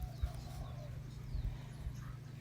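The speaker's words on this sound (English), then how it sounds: "The chickens can get pretty loud in the morning." Hens clucking in the morning outside a remote tiny house in a Hawaiian rainforest, with a few louder low clucks standing out over a steady background of birds.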